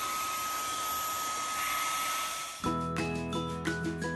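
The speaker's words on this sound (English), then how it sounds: "Just grab my vacuum. Gonna clean out the car." A handheld vacuum cleaner runs with a steady broadband whine while cleaning out a car, then shifts abruptly partway through into a harsher, more tonal roar with pulsing bursts, loud and close with no talking.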